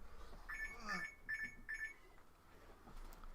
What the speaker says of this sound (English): there's my alarm saying, oh, by the way, do a live stream soon